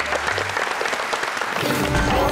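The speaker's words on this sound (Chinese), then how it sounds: "掌声鼓励一下。" A studio audience on a Taiwanese TV game show breaks into sustained applause, a dense, even wash of clapping that continues throughout without voices.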